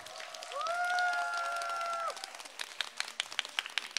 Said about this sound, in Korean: 다시 한번 우리 이준영 씨에게 다시 한번 뜨거운 박수 부탁드리겠습니다